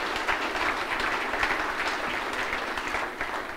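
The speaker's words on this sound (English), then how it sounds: "Let's give our sponsors a big round of applause for all they do." An audience at a cowboy hall of fame event applauds steadily, with dense, continuous clapping that stays loud throughout.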